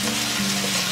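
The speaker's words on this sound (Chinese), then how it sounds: "砂锅预热好，我们来一点点油，下入葱姜蒜给它炒香。" Scallion, ginger and garlic frying in a little oil in a preheated clay pot, a steady close sizzle with a faint low hum underneath, unbroken throughout and with no talk.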